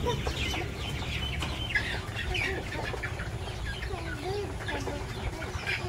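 Chickens at a chicken house in a village cluck and murmur repeatedly at moderate distance, overlapping calls forming a steady, busy layer of farmyard sound.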